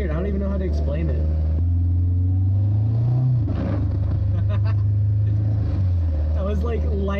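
Mid-pitched inline-six rumble from a BMW E36 driving through snow, holding a steady drone with light throttle in third gear and a brief rise near the middle, with a person talking over it throughout.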